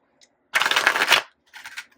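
An oracle card deck being shuffled close up: one riffle burst of about three-quarters of a second, then a shorter, softer riffle after a pause, with no voices.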